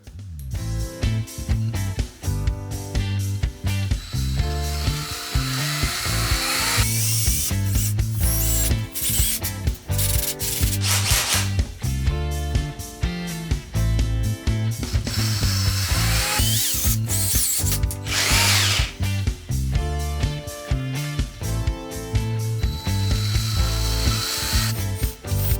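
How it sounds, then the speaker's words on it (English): A power drill with a long bit bores into a wall to fix a towel rail without wall plugs. Loud, rhythmic ratcheting bursts repeat in close succession, with brief pauses and changes in speed, and no one talks. "The longer drill bit gets past this awkward bit here."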